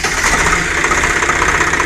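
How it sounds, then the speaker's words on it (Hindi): A Swaraj 735 tractor engine runs close by with a steady, loud, rumbling drone and a knocking pulse. There is no talking. "किसान से भाई थोड़ा स्टार्ट कीजिए ट्रैक्टर को।"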